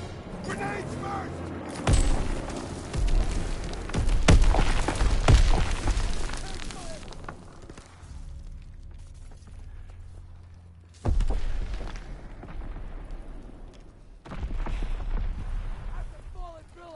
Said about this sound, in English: Grenades first!